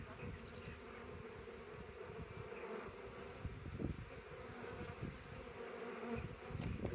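A steady, dense buzzing of many bees during a bee removal fills the air, continuous and close, with no voices.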